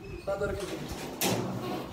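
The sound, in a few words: pigeon cooing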